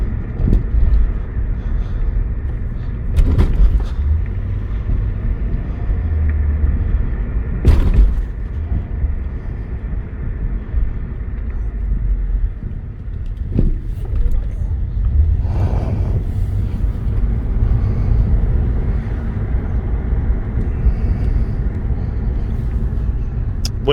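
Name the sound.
2008 Acura TL S-type driving, interior engine and road noise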